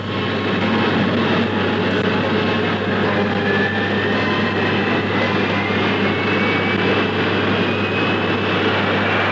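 Concorde supersonic airliner on British Airways Flight BA 300 taking off, a loud continuous roar with a low steady hum and a rising whine, unbroken for the whole stretch.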